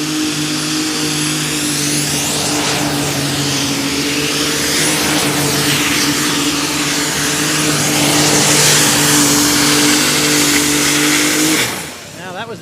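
A pulling tractor, Lucky Luke from Denmark, screams off the start line at a European tractor pulling event in Füchtorf, its engine holding a loud, high-revving roar that swells and then cuts off abruptly, with crowd and announcer noise beneath.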